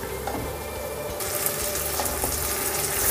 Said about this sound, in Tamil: ஸோ க்ரீன் பீஸ் வந்து நான் ஆட் பண்ணிவிட்டேன்.